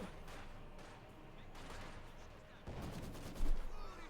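A field gun fires in Company of Heroes 2, a sharp boom near the end standing out over a dense, continuous battle din of scattered gunfire.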